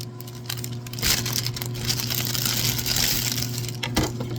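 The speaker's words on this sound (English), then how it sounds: "I love the sound of crinkling bags." Plastic bags crinkle and rustle continuously near the listener, a dense crackling texture with a couple of louder crunches, over a steady low hum, with no one talking.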